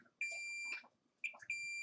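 Two sustained electronic beeps from a multimeter continuity test, each about half a second, sound in succession with a short gap between them, clear and fairly near, while probing a Samsung S7 Edge circuit board.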